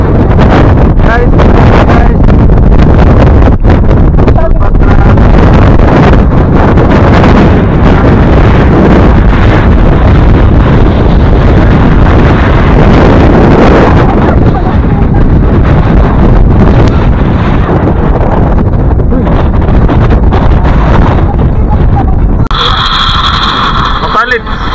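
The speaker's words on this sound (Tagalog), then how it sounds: "Malakas yung hangin guys at malamig." Strong, cold wind roars and buffets the microphone nonstop, loud and close, at Sulfatara in Cabintan, Ormoc, Leyte, with voices talking faintly beneath the gusts.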